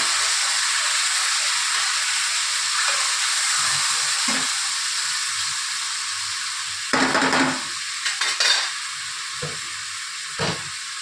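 Spice paste cooking in a pan with a splash of water added for a Bengali doi katla; a continuous sizzling hiss carries throughout, with louder bursts of bubbling and stirring scrapes in the second half.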